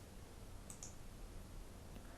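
Computer mouse clicking a menu button, two quick faint clicks close together over a quiet background hiss, with a softer click shortly after.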